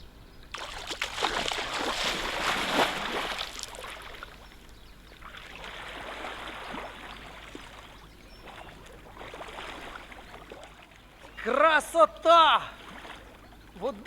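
A person wades into the Desna River for a swim, making a few seconds of rushing, splashing water up close, followed by softer water movement and brief voices near the end.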